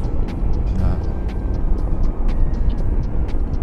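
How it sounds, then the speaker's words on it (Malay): A car drives past outdoors, a steady broadband road rumble holding across the whole stretch, with faint repeated high chirps layered over it. "Kereta ni."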